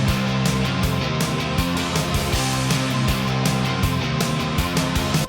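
Full rock music production mix with bass guitar and piano, dense and loud with a steady driving beat and sustained low end across the whole stretch, no voices.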